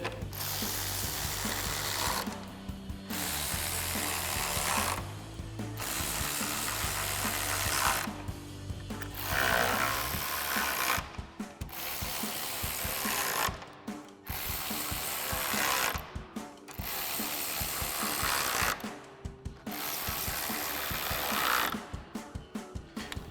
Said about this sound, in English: we'll grab our 10mm socket on our ratchet and go ahead and run these in